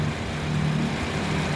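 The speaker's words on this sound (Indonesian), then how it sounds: "suara mesin dan ritme suaranya" A 2013 Suzuki Ertiga 1.4 GL automatic with a four-cylinder engine and about 73,000 km idles close by, a steady, even low hum with a constant rhythm and no other sounds.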